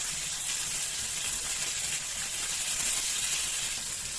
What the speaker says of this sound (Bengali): মাছগুলো কিছুক্ষণ ভেজে নেওয়ার পর আমি এগুলোকে উল্টে দিচ্ছি।